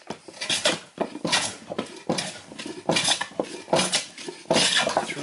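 A hand plane makes repeated continuous cuts along a wooden workpiece, giving a series of rasping, hissing strokes about one per second, close and fairly loud, with no talk.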